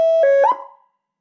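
A loud, close Whelen fire engine siren on a test bench gives a short yelp burst, a piercing tone that warbles briefly and then cuts off quickly into silence.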